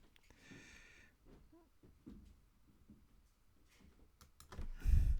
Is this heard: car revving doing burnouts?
no